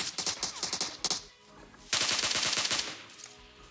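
Automatic gunfire from a PUBG Mobile battle comes in rapid bursts. A quick string of shots is followed by a short pause and then a denser, longer burst, loud and close, with no talking.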